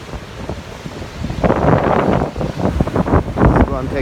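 Strong coastal wind roars steadily across the microphone, swelling into louder, rougher gusts after the first second and buffeting close and loud throughout.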